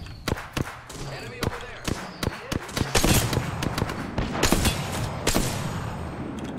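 Gunfire in the Apex Legends video game cracks in sharp irregular shots and short bursts, loud and close, over continuous battle noise with a voice talking at times.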